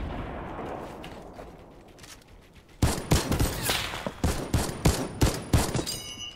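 A quiet stretch, then a burst of rapid, loud gunshots in an irregular volley, sharp cracks repeating close by, weapon fire in Fortnite.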